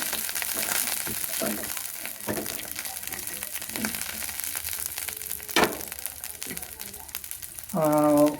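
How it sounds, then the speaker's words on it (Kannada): Steady broadband sizzling of ingredients for stuffed brinjal curry frying one by one in a pan runs throughout, with a few stirring clatters and a short tonal beep near the end. "ಒಂದೊಂದೇ ಪ್ರತಿಯೊಂದನ್ನು ನಾನು ಫ್ರೈ ಮಾಡ್ತಾ ಬರ್ತೀನಿ"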